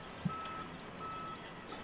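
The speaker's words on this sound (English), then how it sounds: "That's the trailer reversing," A thin, steady series of high electronic reversing beeps from a sailboat haul-out trailer sounds faintly in the distance over a constant low outdoor rumble.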